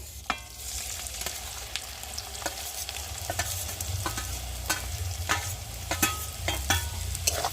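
Vegetables frying in ghee with cinnamon, cardamom and cloves, stirred with a spoon that scrapes the pan in regular sharp clicks over a steady, close sizzle.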